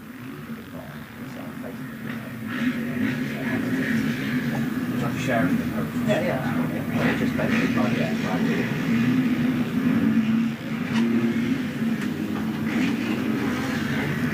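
Motocross bikes cross the finish line at a British national round, their engines a loud, sustained drone that rises and falls under continuous commentary.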